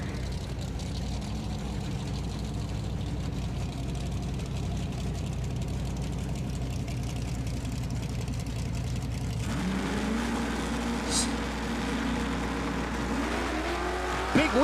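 An S10 Blazer drag racing a single elimination run on a 650 index at a drag strip: engine roar and revving from a distance, then a sharp change as the vehicle launches, with a rising tone, faint crowd noise and announcer talk around it.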